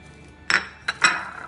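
A metal cooking pan is set down on a stove for minced meat in a home kitchen, giving three short metallic clinks in quick succession, close and clear in a quiet room.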